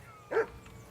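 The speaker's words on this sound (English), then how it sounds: "Whistle at that mutt of yours to stop barking." A single short dog bark rings out faintly in a medieval game world, a brief isolated yelp over a quiet background.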